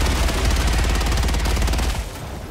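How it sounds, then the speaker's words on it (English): Rapid automatic gunfire from the video game Helldivers 2 rattles continuously and loudly, a dense stream of shots that thins out near the end. "Look at Spoole and Rahul together over there shooting bugs."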